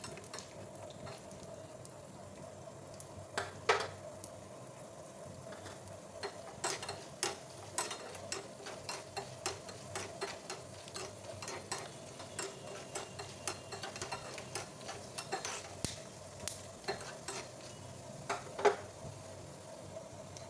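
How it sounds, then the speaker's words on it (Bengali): Spices, curry leaves and dried red chilies tempering in hot oil for coconut chutney, producing a soft crackle with repeated sharp pops and ticks spread across the clip, fairly quiet and without talk. "নারকেল চাটনিতে তরকাটা যে দেওয়া হবে সেই তরকাটা এখন করছি"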